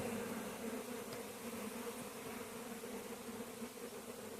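Honey bees hum steadily around an open hive while frames are rearranged and foundation added to expand the nest; the drone is continuous and fairly faint, with no voices.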